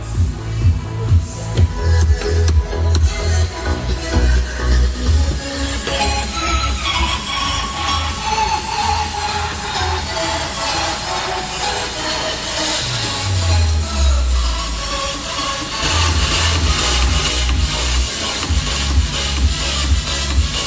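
Bass-heavy music plays loudly and continuously from a car's Nakamichi speakers and 10-inch subwoofer box, with booming low notes and bright treble filling the space.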